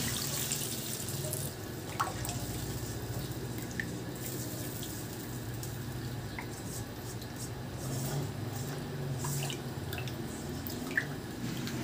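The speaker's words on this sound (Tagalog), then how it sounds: "Maglagay na ako ng tubig." Water pours steadily into a pot for chicken soup, a soft continuous splashing with occasional small drips and clinks, fairly quiet and close.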